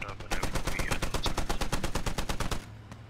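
Vehicle-mounted machine guns firing in Squad during a convoy, a fast, even stream of close, loud shots lasting about two seconds before cutting off over engine rumble.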